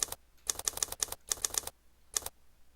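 Software typing sound effect imitating a typewriter: a run of sharp, crisp key clacks in quick uneven bursts, then a pause and one final short cluster, loud and close with no talk.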